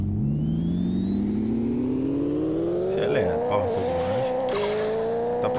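A video-game car in Pixel Car Race revs hard past 8000 rpm, a synthetic engine whine climbing steadily in pitch and loudness over about five seconds, with brief wobbles near the top of the rev range.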